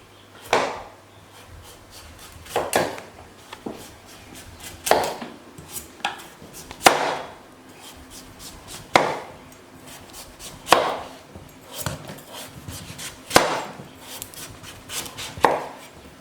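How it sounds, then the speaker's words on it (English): Pumpkin being diced with a knife on a cutting board for homemade soup, sharp knocks of the blade landing in a loose, steady rhythm about every two seconds, close and clear with no talking. "Dicing this as well."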